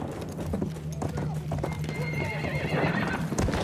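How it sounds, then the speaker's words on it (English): Horse hooves clip-clop at a gallop with a whinnying neigh during Battlefield 1 desert combat on Sinai, steady and fairly close over game ambience and faint voice. "Enemy horse rider!"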